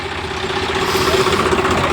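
A tractor engine idles close by, a steady even rumble with a constant mid-pitched hum and no voices.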